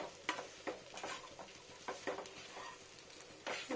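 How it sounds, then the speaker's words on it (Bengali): Beet masala frying and being stirred in a pan for potato chops, with soft sizzling and several scraping, stirring strokes at an irregular rhythm, close and fairly quiet, no talking. "একটু উল্টো পাল্টো করে ভেজে নিচ্ছি যাতে বিটের কাঁচা গন্ধটা পুরো চলে যায়"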